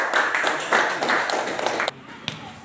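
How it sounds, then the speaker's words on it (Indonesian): A classroom group claps together in a brisk run of applause for a couple of seconds, then it stops abruptly, leaving a quiet room and a single faint tap. "Oke, berikan aplaus untuk."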